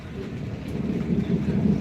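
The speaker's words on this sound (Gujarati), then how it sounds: "વીજળીનો કડાકો થઈ ગયો જબરજસ્ત એવો" A heavy downpour during a thunderstorm, with a low rolling crack of thunder swelling beneath the steady close rain noise.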